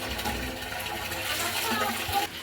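Steady rushing of tap water pouring into a bottle, a continuous hollow gush that fills the whole moment without pause.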